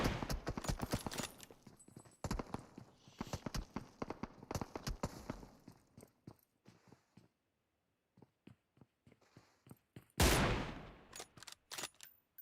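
Rapid gunfire in a PUBG esports match, with dense bursts of shots, scattered single cracks and a loud close blast near the end, plus quieter distant fire and brief gaps.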